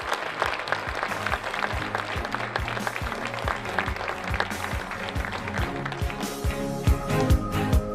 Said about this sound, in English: Let's have a big round of applause, shall we, for tonight's inaugural business inductees to the Hall of Fame